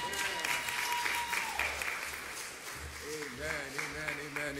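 A church congregation applauds during a Sunday morning worship service, a steady dense clapping that fills the room, with a voice speaking and calling out over it toward the end.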